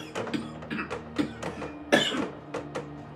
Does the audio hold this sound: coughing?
yes